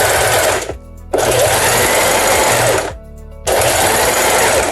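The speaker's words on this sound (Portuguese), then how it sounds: "você vai passar uma costura reta também nessa parte" A sewing machine runs a straight seam along a pouch lining in two close, loud bursts of rapid needle rattle separated by brief pauses, with no talking over it.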